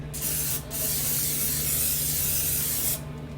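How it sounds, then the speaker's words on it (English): A can of cooking spray hisses onto a pan in one long burst of about two and a half seconds after a brief initial puff, close and fairly loud. "We're gonna spray it again. Same pan."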